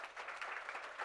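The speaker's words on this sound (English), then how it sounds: "round of applause for the ladies for that" Brief burst of clapping from a small group cheering an all-female fishing team at a walleye tournament, steady and somewhat distant, without speech.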